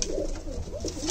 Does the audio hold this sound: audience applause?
no